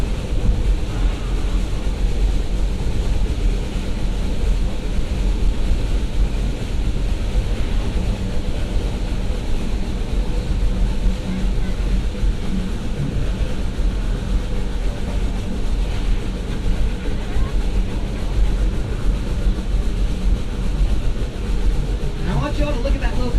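Roaring Camp train locomotive in Felton, California, hauling carriages up a hill: a steady, dense low rumble and mechanical clatter that runs without a break, with constant ride noise throughout.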